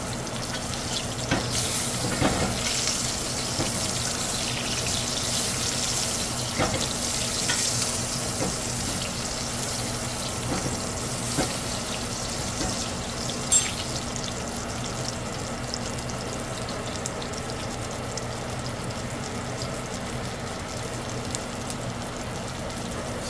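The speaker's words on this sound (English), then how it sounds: "And then I'm going to start really basting it." A tomahawk ribeye steak sizzles steadily in a hot pan while being basted, with a constant fry hiss broken by occasional spoon scrapes and spattering pops; no voices.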